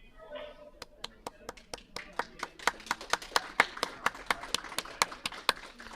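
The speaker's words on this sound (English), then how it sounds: "As we clap as the players come off the ice." Spectators at a curling tie-breaker playdown clap as the players come off the ice: sparse, distinct claps in a slow, fairly regular rhythm, faint and roomy, with a voice talking briefly at the start.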